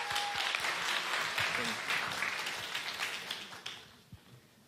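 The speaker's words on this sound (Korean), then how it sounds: "우리 환영의 박수로 우리 진영 목사님 맞았으면 좋겠습니다" Church congregation applause welcomes a new pastor, a dense, steady crowd clapping that fades toward the end with a few scattered claps.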